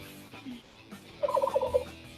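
Turkeys gobble in a burst of rapid, warbling calls during the second half, loud and close over a quiet background, with no talking.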